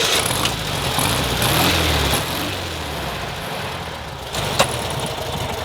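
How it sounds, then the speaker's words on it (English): Air-cooled 4-cylinder Volkswagen engine running close by with a loud, steady mechanical chug and rumble, shifting in tone partway through, with no voices. "that happy mechanical sound of that air-cooled 4-cylinder engine"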